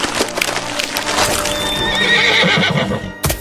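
A horse neighs loudly, a long whinny standing in for a horse-faced tikbalang creature, over a dense backdrop with a sharp knock at the end.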